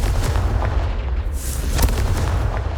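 A Confringo fire spell in Hogwarts Legacy bursts with a loud, close explosive boom, followed by crackling blasts and rumbling low-end impacts over a short burst.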